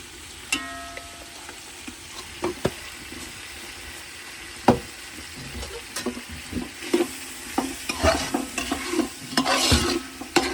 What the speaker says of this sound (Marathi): आता वरून आपण लाल कोळी मसाला टाकू.